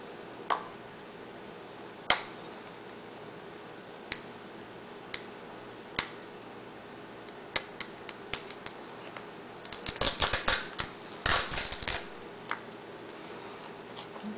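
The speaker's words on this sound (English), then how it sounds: "I cut this, rip the sticker off." A sports card box from a 2008 National Treasures case is sliced and its sticker torn off: sparse sharp close clicks and snips, then a few seconds of louder rustling and ripping near the end.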